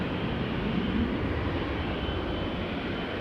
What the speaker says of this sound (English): We've got two 777s coming this way